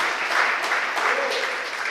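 A church congregation claps in sustained, dense applause, steady throughout, with faint voices mixed into the clapping.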